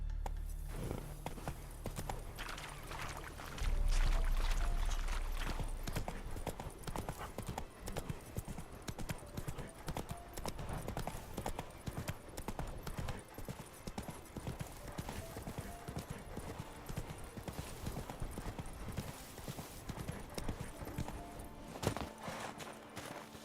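Steady clip-clop of Roach trotting in The Witcher 3, an even hoof rhythm running for the whole stretch beneath a swelling background score, with a brief snort or whinny mixed in.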